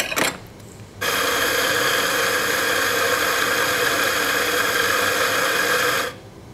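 An E65 coffee grinder grinds one dose of espresso coffee in a single steady, loud burst of about five seconds, starting abruptly after a short click and stopping cleanly, with no talking.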